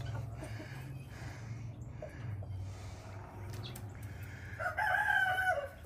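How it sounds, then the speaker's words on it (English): Chickens cluck softly in the background over a steady low hum as they leave a barn, then a rooster crows loudly near the end. "all the chickens in the barn here have decided to make their way out"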